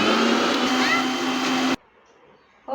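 A blender grinds musk melon juice with ice cubes, a loud steady whirring roar that cuts off abruptly into near silence, then starts up again at the end.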